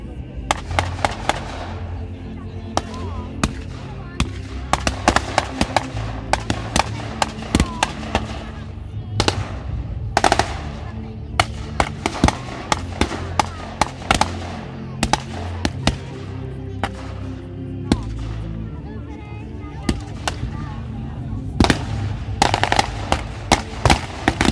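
Rifle and machine-gun fire crackle through a reenacted WWII battle from May 1945, sharp loud reports in irregular bursts and single shots echoing across open ground for the whole stretch, with a narrator speaking intermittently.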